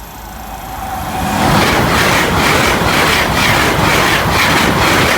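London to Edinburgh train passing Rossington level crossing, swelling from a distant rumble to a loud, close roar with rhythmic clickety-clack wheel beats as the carriages rush by.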